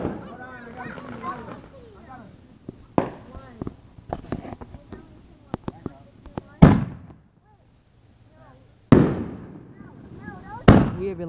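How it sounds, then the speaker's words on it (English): Grand finale fireworks set off outdoors on the Fourth of July, with several loud, sharp bursts ringing out over a stretch of crackling and popping, separated by brief quiet gaps, as voices chatter in the background. "today we're going to be lighting off the last set of fireworks, the grand finale."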